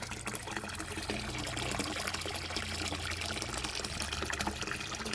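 Water from a pond pump runs continuously into a homemade pond filter, a steady close trickling and splashing flow at even loudness throughout.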